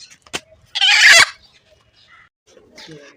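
A native chicken gives a short, loud squawking cluck, with a few faint clucks and small sounds around it in an otherwise quiet space.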